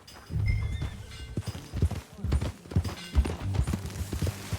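Horse hooves clip-clop at a steady riding pace in the video game Red Dead Redemption 2, rhythmic and fairly close, with faint tack jingles and scattered game ambience around them.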